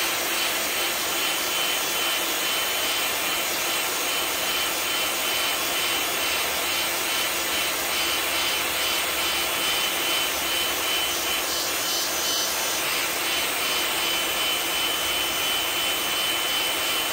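A heat gun blows hot air to set paint on a custom fishing lure, a loud, steady, close roaring hiss that holds unbroken and even throughout with no other sounds.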